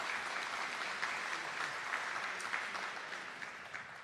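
Applause from parents at a fall sports parent meeting, welcoming the girls swim coach: a steady, fairly faint patter of clapping from a modest crowd, continuous throughout with no talk over it.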